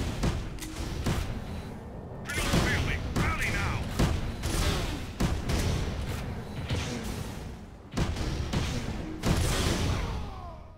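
Rapid gunfire from the video game Tribes: Ascend comes in dense bursts with short pauses, loud and close, layered with explosive thumps.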